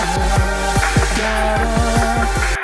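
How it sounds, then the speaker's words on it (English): A melodic Apple loop in GarageBand plays loud and clear, with a repeating plucked bass figure under sustained synth tones in a steady rhythmic pattern. "We've been talking about melodic loop sounds like this one."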